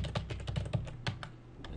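Quick, close keystrokes on a computer keyboard during recipe-software data entry, a short burst of uneven taps with a few sharper key hits, heard alone without any talk.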